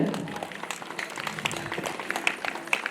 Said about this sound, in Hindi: जोरदार ताली चाहूंगा दर्शकों से